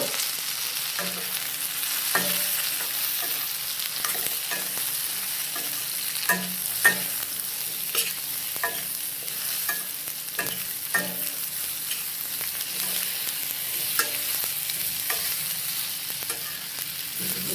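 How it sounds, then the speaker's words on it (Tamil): Coconut sautés with onion and tomato for a mutton curry, with a steady sizzle and regular spatula scrapes and taps against the pan, close and unbroken by talk. "இது கூடவே தேங்காயை சேர்த்து வதக்கிக்கலாம்."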